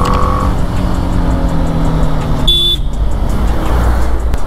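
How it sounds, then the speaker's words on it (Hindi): Traffic rumble recorded on a BMW G310R motorcycle on an Indian road, loud and continuous wind and engine noise with one short, sharp horn toot near the middle. "पीछे से हॉर्न देने का क्या फ़ायदा अगर आप ओवरटेक ही ना करो।"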